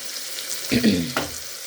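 Garlic sautés in oil in a pan, giving a short, close burst of sizzling and stirring that swells briefly and then fades.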